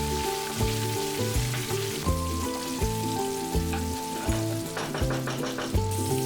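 Whole spices (cloves, a cinnamon stick, bay leaves, green chilies and curry leaves) fry in hot oil for cilantro rice, giving a steady sizzle under tonal background music that runs through the whole stretch.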